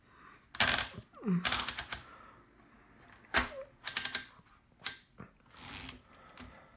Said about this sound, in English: Let's go ahead and get a little typing sample of our Smith Premier number 4.